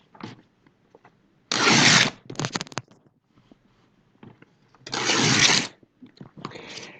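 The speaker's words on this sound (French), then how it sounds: "vous allez couper 4 bandes de papier, à peu près de la même taille." Scissors cut a sheet of paper into strips in two bursts of close, crisp rasping snips, separated by quieter handling rustles.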